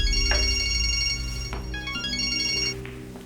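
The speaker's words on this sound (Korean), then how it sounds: "전화 왔습니다" A phone rings with an incoming call in a Korean drama scene, a bright electronic ringtone melody repeating loudly and close for a few seconds with no talking over it.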